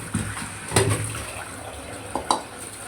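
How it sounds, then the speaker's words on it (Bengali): Water splashes and runs while a kadai (wok) is rinsed, with soft sloshing and a few sharper knocks of the pan, close and fairly quiet. "কড়াইটা ধুতে হবে"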